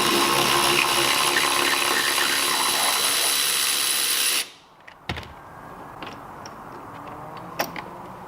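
A power tool runs loud and steady for several seconds while 17mm bolts are removed from a Mazda Miata soft top frame. It then cuts off, and a few sparse metallic clicks and clanks follow.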